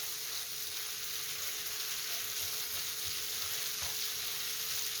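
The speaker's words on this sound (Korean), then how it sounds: "마카로니 적당량 넣어주세요. 그리고 볶아주세요." Faint, steady sizzle of macaroni being stir-fried in a pan, a low even hiss with a few soft stirring bumps.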